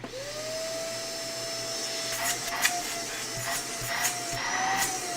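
An upright vacuum cleaner, an old-school Sanitaire or Shark with a suction problem, runs in a suction test, giving a steady, moderately quiet motor whine with a few brief rubbing bumps.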